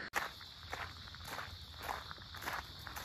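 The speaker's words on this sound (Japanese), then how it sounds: "なんか自分の足音だけが聞こえますね。" Steady footsteps crunch along the grounds of Ise Grand Shrine in the quiet early morning in October, close and regular, with faint insects chirping behind them.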